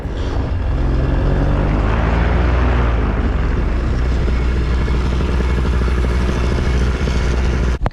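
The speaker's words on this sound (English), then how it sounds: "The gust front comes through, you can tell." Strong gust-front wind roars loud and steady across the whole stretch, a dense buffeting rush with deep rumble, blasting hard over an open flying site as a storm front arrives.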